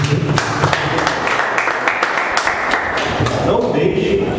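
A church congregation claps at the close of a worship service, with a dense, continuous patter of hands and scattered thumps, as voices carry on underneath.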